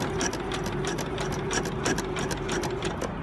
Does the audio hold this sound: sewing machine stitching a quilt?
yes